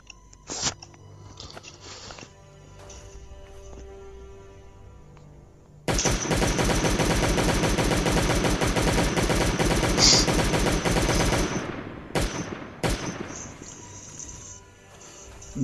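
Gunfire in the Last Day on Earth video game as a turret is attacked with a shotgun, a few isolated blasts, then about six seconds of dense continuous rapid fire, followed by scattered single shots.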